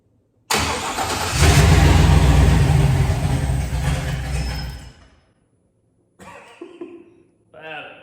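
A 500 hp LS 6.0 V8 cranks over loudly for several seconds without catching, then falls silent; brief voices follow near the end.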